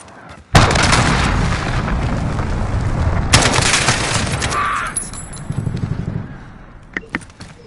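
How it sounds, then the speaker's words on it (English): Heavy cruise missile strikes in a PS4 shooter land as a sudden loud blast, then a second booming impact with crackling debris and rumble that fades into scattered lighter pops. "Allied cruise missile away."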